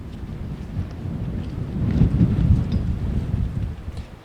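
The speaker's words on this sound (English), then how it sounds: "The wind picking up again this afternoon." Steady wind gusting across an open golf course during an amateur championship final, a continuous low roar with broad rumbling buffets swelling near the middle, loud and close to the microphone with no talk.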